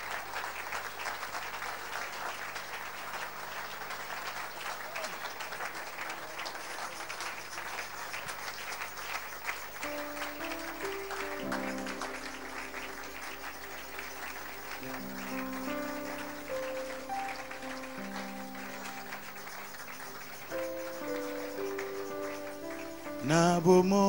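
Church congregation applauding during a worship service, steady sustained clapping throughout, with music tones rising underneath in the second half.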